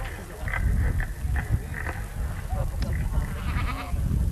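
Goats bleat repeatedly at moderate distance amid ambience at a goat show, with people talking intermittently in the background.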